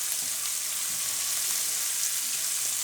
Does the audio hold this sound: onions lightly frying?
yes